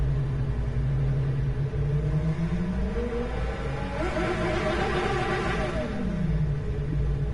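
In a racing video game, a car engine hums as a steady smooth drone, its pitch sweeping up and then easing back down, with a constant low rumble underneath.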